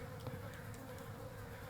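Flies buzzing in a video game, a steady droning hum that runs unbroken under faint background game sound, fairly close and even in level.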